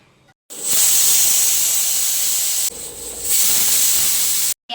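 A kitchen pressure cooker lets off steam in loud, sharp hissing whistles: one long blast, a short dip, then a second strong blast that cuts off abruptly, close and with no talk.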